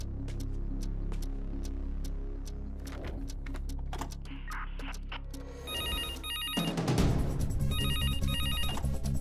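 Telephone ringing after a call is placed on a stolen phone, a repeated ring tone with keyboard-like typing clicks and a low hum, ending in a louder burst of electronic tones.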